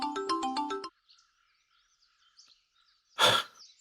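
A phone rings indoors with a bright, chirpy electronic ringtone in a quick burst lasting under a second, then falls quiet apart from faint background noise, followed later by a brief sharp rustle or breathy sound.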